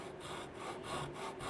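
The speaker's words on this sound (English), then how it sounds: "We're going to use our special razor saw here" Razor saw cutting a wedge into a wooden swimbait lure body by hand, a steady back-and-forth rasp repeating in even strokes about every third of a second, close and continuous with no talking.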